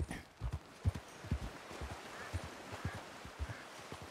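Horse hooves clip-clop in the video game Red Dead Redemption 2, a steady, fairly quiet rhythm of soft thuds from a walking horse over ambient outdoor background, with no talking.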